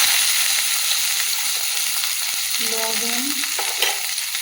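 Dried chillies, chopped onion and garlic frying in hot oil in a wok, a steady close sizzle with a brief louder hiss as food hits the oil, plus light stirring, with no talking.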